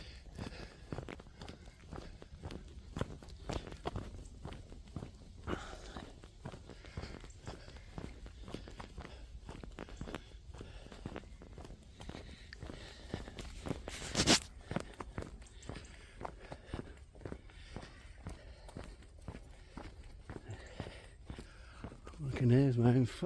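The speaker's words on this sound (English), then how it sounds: "I can hear my own footsteps." Footsteps crunch steadily along a path in the Brecon Beacons, Wales, as a walker keeps a regular pace. A faint outdoor background sits underneath, and a brief voice is heard near the end.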